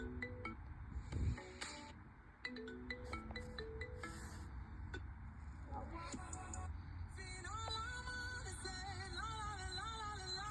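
A Samsung ringtone preview playing on a Galaxy Tab Plus tablet, a bright electronic melody of chiming tones that starts and stops in short bursts, then plays continuously, moderately loud.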